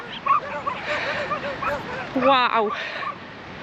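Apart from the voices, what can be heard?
pack of street dogs barking in Morocco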